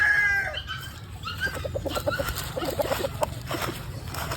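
Chickens in a backyard coop, with a rooster crowing and hens clucking in a steady, lively chorus close by, no talking.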